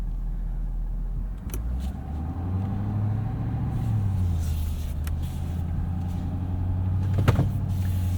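A 2023 Ford F-250 King Ranch Super Duty crew cab with a 6.7-liter turbo diesel V8 drones low while driving, the engine note rising gradually as it accelerates, heard from inside the cab with a few faint clicks.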